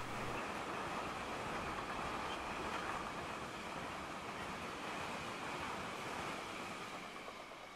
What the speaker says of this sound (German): Mit modellbahngerecht unverminderter Geschwindigkeit rauscht ein Güterzug durch den Bahnhof Neuwied.